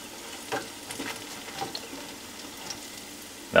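Jackfish deep frying in hot oil for Southern fried fish, a steady soft bubbling sizzle with faint crackles, ending in a sudden louder burst of noise.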